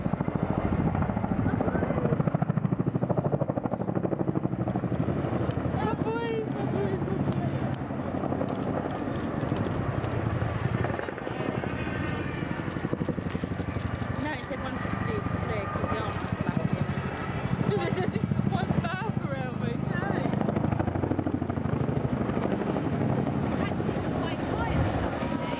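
Chinook twin-rotor helicopter flying a roller coaster display manoeuvre at an air show, a steady loud rotor thrum and engine roar throughout, with a commentator talking over it.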